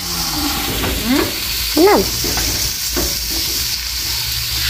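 Garlic and aromatics sautéing in hot oil for pupusa filling, a loud steady sizzle with a few scraping stirs, while a voice speaks briefly over the frying.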